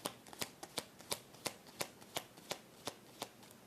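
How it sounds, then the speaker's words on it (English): Egyptian Pyramid Oracle cards are shuffled by hand, a crisp series of about a dozen sharp papery riffles and slaps in a regular rhythm, close and clear with no talking. "I'm going to pull from Egyptian Pyramid Oracle now"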